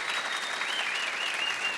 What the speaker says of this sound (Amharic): የ10 ሰከንድ የማያባራ ጭብጨባ።